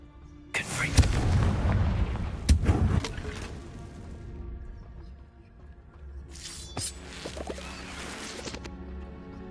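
The Confringo fire spell in Hogwarts Legacy sets off booming, crackling blasts, with a big burst early, more rumbling explosions after it and a second burst of crackle near the end.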